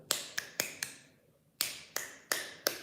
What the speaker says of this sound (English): One hand clapping.